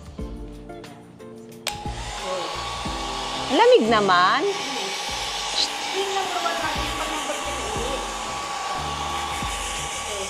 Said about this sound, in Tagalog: Bigyan kaya kita ng blower.